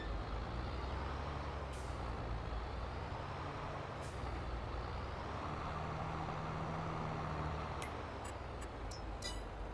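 A semi-truck in Farming Simulator 22 delivers a roller, with a faint continuous engine drone and a few brief air-brake hisses near the end, no talking.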